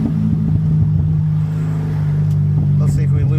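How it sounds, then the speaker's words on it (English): A C6 Corvette revs hard during a tire burnout, its engine holding a loud, steady low drone that rises and pulses throughout, with a person talking over it. "Gotta get one more burnout out of these tires."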